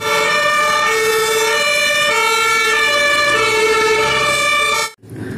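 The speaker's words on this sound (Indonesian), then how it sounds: "Mobil pemadam kebakaran." A toy fire engine siren wails in a loud, repeating two-tone electronic pattern, close and continuous, cutting off abruptly near the end before briefly starting again.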